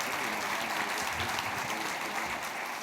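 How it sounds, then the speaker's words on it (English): Conference audience applauds panelists after a state of the state discussion, a steady, fairly distant clapping wash that holds evenly throughout with no speech. "Let's give a round of applause to our panelists here."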